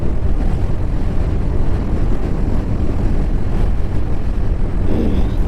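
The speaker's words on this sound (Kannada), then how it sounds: "ಸರಿಯಾಗಿ ಹೊಡಿತಾ ಇದೆ ಗಾಳಿ" Strong wind blowing through an areca nut plantation, a loud, steady roaring rush with constant buffeting on the microphone and no voices.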